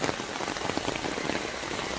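Steady rain pattering over a grassy garden, a dense, even hiss of drops close by with no voices.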